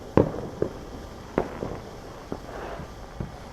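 Fourth of July fireworks exploding at a distance, several separate pops and booms spaced irregularly over a faint steady background hum.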